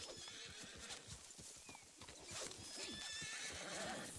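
Horses whinny and hooves clip-clop steadily over a dense, busy background of ambience and effects in Red Dead Redemption 2 on PS5.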